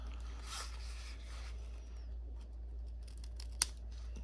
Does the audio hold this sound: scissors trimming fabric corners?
yes